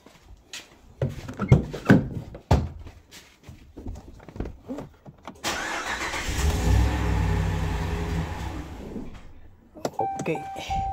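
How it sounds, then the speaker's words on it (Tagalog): A 2015 Dodge Ram pickup gives a few scattered clicks and knocks, then its engine catches and runs with a rough, rumbling idle for several seconds before it dies. A short electronic chime follows. "Tapos pa-startin natin yung sasakyan hanggang sa mamatay."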